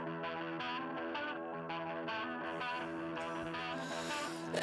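A metalcore song plays steadily and loud, with heavily distorted, effects-laden guitars and a dense full-band mix running throughout without pause.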